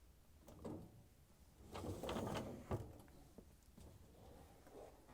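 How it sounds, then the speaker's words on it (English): A dishwasher's lower dish rack assembly slides in on its rails, then the door closes with a single bump, a few scattered clunks and rattles close by, no talking. "Slide in the lower dish rack assembly and close the door."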